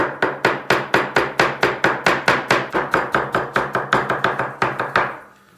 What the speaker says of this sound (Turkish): Bir de soğanı çok ince doğramanız lazım.